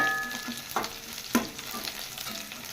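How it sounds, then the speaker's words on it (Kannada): Dried red chillies sizzle and crackle in hot oil in a pan, with a couple of sharper pops and a steady frying hiss throughout, close and alone. "ನಾನು ಖಾರಕ್ಕೆ ಒಣಮೆಣಸಿನಕಾಯಿ ಸೇರಿಸ್ಕೊತಾ ಇದ್ದೀನಿ. 4 ರಿಂದ 5 ಆಗೋಷ್ಟು. ಇದು ಸಹ ಚೆನ್ನಾಗಿ ಫ್ರೈ ಮಾಡ್ಕೋಬೇಕು."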